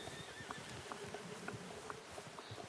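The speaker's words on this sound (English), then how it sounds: "Ahí viene nuestro caballo." A horse in the Red Dead Redemption 2 game draws near with a faint run of hoofbeats and light clip-clops, set against a quiet outdoor ambience with a soft insect-like buzz and no talk.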